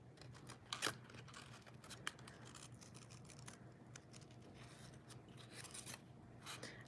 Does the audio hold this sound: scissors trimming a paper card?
yes